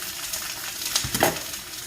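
Halved onion and tomatillos fry in a hot pan with a brief, steady, close sizzling hiss and a couple of small bumps as the pieces settle.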